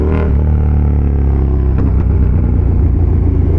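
A naked motorcycle, either a KTM Super Duke or a Kawasaki Z H2, revs loud and close, its engine note holding a heavy, steady growl with a brief sharper blip partway through.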